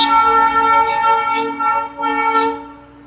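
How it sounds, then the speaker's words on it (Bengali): A Darjeeling toy train sounds its horn as it departs the railway station, a loud sustained tone that swells in short pulses near the end before fading. "এই দেখো একটা টয় ট্রেন জাস্ট বেরোলো।"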